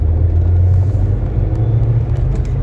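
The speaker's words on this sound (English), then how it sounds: "And you can also hear the turbo. You can hear that." A cheap sports car with a turbocharged engine rumbles loudly from inside the cabin while driving, giving a steady, deep engine drone with faint hissing accents higher up.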